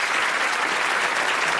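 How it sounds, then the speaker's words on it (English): Studio audience applause on the Bullseye darts game show, a dense, loud and even burst of clapping filling the whole short moment. "That's a nice applause there for you, Jane."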